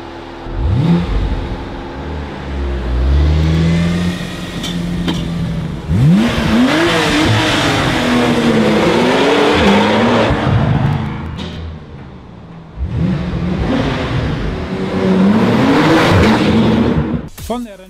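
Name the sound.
Porsche 911 Turbo S 991 engine revving in tunnel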